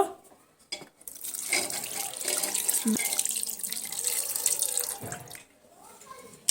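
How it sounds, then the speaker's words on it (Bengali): Water is poured from a glass onto chicken being cooked in a pressure cooker, a splashing, running pour that swells for a few seconds between faint quieter moments. "এবার আমি এখানে পরিমাণ মতন পানিটা অ্যাড করব"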